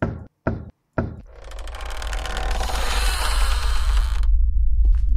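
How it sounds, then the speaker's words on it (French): A creaking dungeon door in a witch-hunting game set in Sherdorne Forest. It opens with a few abrupt knocks, then a long, rising, grinding creak swells and drones loudly for several seconds. "La porte a fait un bruit de bébé qui chiale."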